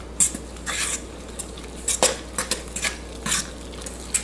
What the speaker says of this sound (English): Use your fork to mix it up.